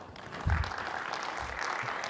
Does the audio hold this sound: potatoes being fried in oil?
no